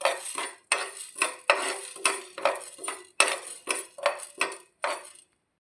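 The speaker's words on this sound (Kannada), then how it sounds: "2 ರಿಂದ 3 ನಿಮಿಷ ಡ್ರೈ ರೋಸ್ಟ್ ಮಾಡಬೇಕು" Cumin, fenugreek and carom seeds dry-roast in a pan while a utensil scrapes and stirs them in about a dozen even, rhythmic strokes, close and clear with no voices.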